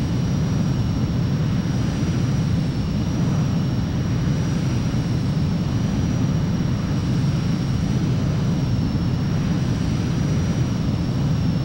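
An F-16 jet engine in the video game Ace Combat 04 on landing approach, a steady, loud rumbling roar with a constant high whine above it, unbroken throughout.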